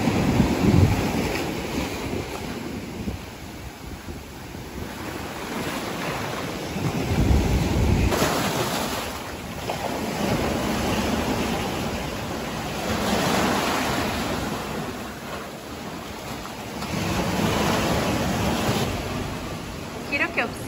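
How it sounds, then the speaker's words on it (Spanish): Ocean waves surge and break on the beach at Sayulita, Nayarit, Mexico, a loud, continuous wash that swells and recedes every few seconds, with wind buffeting the microphone throughout. "Tal vez puedan escuchar el sonido del mar de fondo, realmente es muy muy fuerte."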